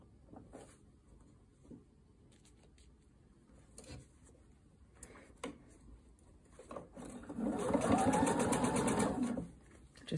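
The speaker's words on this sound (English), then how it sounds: "And just carefully, slowly stitch around on your" Sewing machine stitching a jacket lining seam: scattered soft handling clicks and rustles of fabric, then a steady whirring run of stitching lasting about two seconds before stopping, close and moderately loud.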